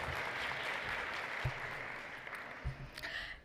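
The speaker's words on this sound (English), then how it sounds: "Round of applause." At a talk about a regional OpenStreetMap program, the audience gives community mappers a round of applause, a fairly faint, distant patter of clapping with a few sharper claps, no voices over it.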